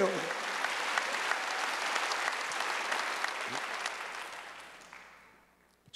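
A church congregation at a Wednesday worship service applauds in a dense, sustained burst of clapping that fades out over several seconds.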